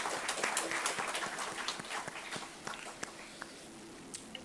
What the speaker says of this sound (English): a big round of applause, not just for yourself, but everybody else who's played a role in your life